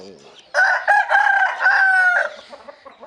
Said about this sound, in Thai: ก็ยัง เลี้ยงไก่ชนด้วยนะครับนี่ครับ